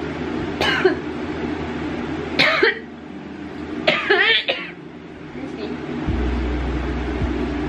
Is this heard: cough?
yes